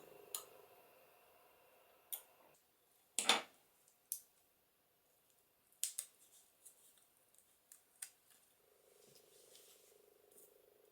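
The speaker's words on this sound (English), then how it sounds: "I think I'll just snip that off" Scissors snip paper in a few sharp, isolated cuts spaced seconds apart, close and quiet, with a faint low background hum between them.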